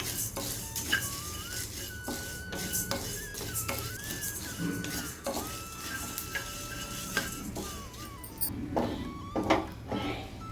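Fresh green coriander dry-roasting in a pan: repeated scraping and tapping of a spoon against the pan over a light sizzle, close and irregular, with faint tonal sounds in the background and no speech.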